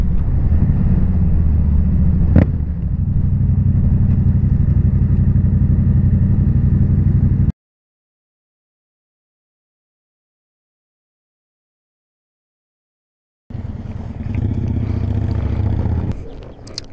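A motorcycle rides along with a steady engine rumble and wind noise. It cuts to silence partway through, then the riding sound returns briefly before ending.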